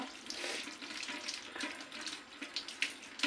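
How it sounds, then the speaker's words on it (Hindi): A kitchen tap runs water over boiled beef while it is washed. The steady splashing hiss is broken by sharper spatters as the meat is rinsed under the stream, and no one talks. "अब आपने जो है थोड़ा पानी ऑन करना है और अच्छी तरह से इसको धोना है"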